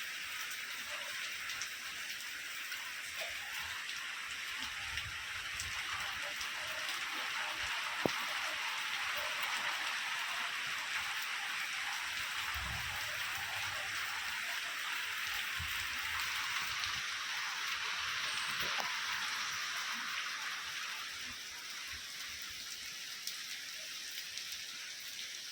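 Rain falls in a constant dense hiss of drops striking nearby surfaces, fairly loud and unbroken, with a few soft voices briefly beneath it.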